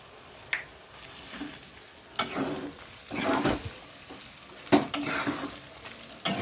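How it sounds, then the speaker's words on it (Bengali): Beaten egg frying with vegetables in a pan for chowmein, a soft sizzle broken by a few sharp scrapes and clacks of a spatula stirring at close range. "সবজির সাথে একটু ভেজে নিতে হবে ডিমটা"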